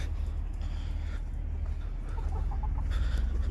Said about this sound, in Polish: kury chodzą zawsze za panem